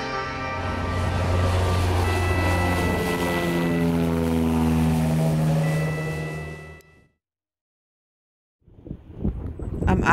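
A propeller airplane taking off or landing on Helgoland drones loudly and steadily close by, its engine tone holding for several seconds before cutting off into silence, then faint wind-like rumble returns.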